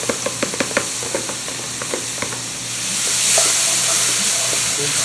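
Chopped onion and bell pepper hit a hot frying pan with chicken drippings, starting with a few sharp taps and scrapes of stirring, then swelling into a loud, steady sizzle with hissing steam.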